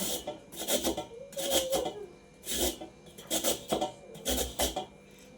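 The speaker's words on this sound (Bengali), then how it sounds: "এবার দেখো আমি সব গাজরগুলোকে এইভাবে ছুলে ঘষে নেব" Peeled carrots for carrot halwa are rubbed against a hand grater in quick rasping bursts, about a dozen short strokes in uneven rhythm, close and fairly quiet, with no talk.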